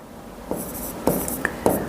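A pen scratches on paper in several short, separate strokes, quiet and close, with faint room noise between them.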